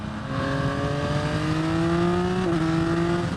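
A 2023 Yamaha XSR 900 motorcycle engine accelerates hard at about quarter throttle, a loud, steady, rising whine that climbs in pitch through a gear, with a brief dip near the end.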